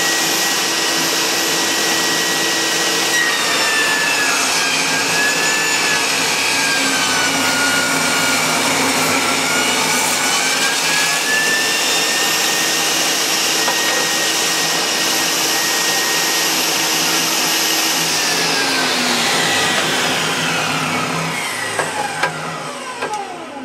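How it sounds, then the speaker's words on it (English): A shop vacuum cleaner drones loudly and steadily as dust extraction for a table saw making test cuts in wood, its whine holding even throughout before spinning down near the end. "turn on the vacuum cleaner"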